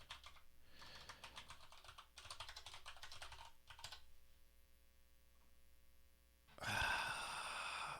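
Someone types on a computer keyboard in a quiet room with a faint mains hum, giving quick bursts of soft clicking keystrokes separated by pauses, then a short louder rustle near the end.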